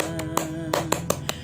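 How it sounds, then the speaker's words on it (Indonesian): Scout-style rhythmic clapping (tepuk pramuka), sharp separate claps at an uneven beat, close and fairly loud, with a steady tone sounding underneath. "saya akan mengajak semuanya untuk tepuk pramuka"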